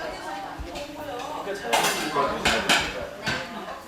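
A pot is handled in a small chicken restaurant kitchen in an eating alley, with sharp metallic clanks and clinks of pots and utensils knocking together in irregular bursts close by, over a steady background hum.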